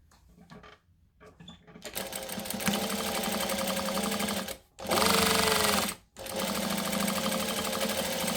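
Sewing machine stitching along the top of two fabric pieces for a Sugar & Spice project, a fast mechanical whirring run that starts up, briefly stops twice, then resumes, loud and close.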